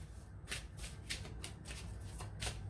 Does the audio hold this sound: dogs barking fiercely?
no